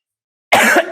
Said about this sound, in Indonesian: sambil batuk-batuk ya